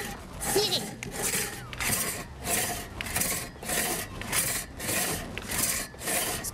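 Two people work a two-man hand saw through wood in a lumberjack village demonstration, producing steady rhythmic rasping strokes about once per second, loud and close, with brief voices audible between strokes.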